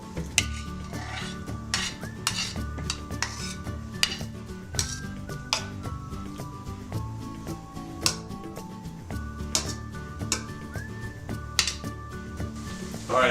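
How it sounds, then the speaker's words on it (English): Shrimp frying in oil in a pan, a steady sizzle under frequent clinks and scrapes of a utensil against the cookware, close by, with a faint musical tone in the background. "Add a little oil. Get it all over the pan. Now I'm going to add the shrimp."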